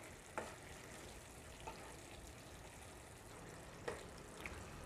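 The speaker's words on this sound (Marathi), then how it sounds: "पुन्हा मी मिक्स करून घेते." Chicken kheema cooks in a pan with added warm water, simmering and bubbling faintly while a spoon scrapes and stirs it in a few short, distinct knocks.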